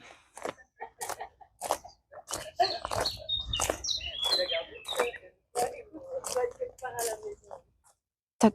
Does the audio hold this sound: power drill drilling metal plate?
no